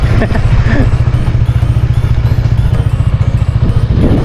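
A motorcycle carrying a passenger rides toward a fishing spot, its engine putting out a rapid, even throbbing pulse that stays loud and close the whole way.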